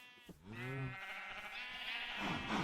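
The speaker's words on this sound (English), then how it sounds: "and all my different color sheep" Differently colored sheep in a video game bleat loudly, a single wavering, nasal call that rises and holds before trailing off, close and alone.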